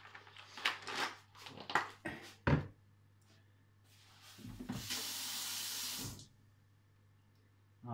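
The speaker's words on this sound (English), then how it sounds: "I'll fill it up with water." Tap water runs into a container while orchids are repotted, a steady hissing rush of about two seconds that follows a stretch of nearby talking and clatter, then cuts off abruptly.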